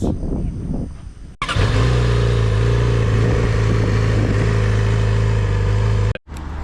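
A Yamaha R6 motorcycle rides down a road near Kowloon Peak in Hong Kong, its engine droning loud and close with a sustained steady note and wind rush before cutting off abruptly, with no talking.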